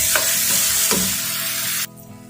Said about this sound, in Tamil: அது கூட இஞ்சி பூண்டு பேஸ்ட்டு சேர்த்துக்கிறேன். சேர்த்துட்டு நல்லா மிக்ஸ் பண்ணிக்கலாம்.